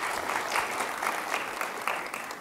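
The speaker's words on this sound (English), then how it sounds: "Please give them a round of applause." Applause from an audience at a human rights event, steady dense clapping filling the whole moment at moderate distance, with no voices over it.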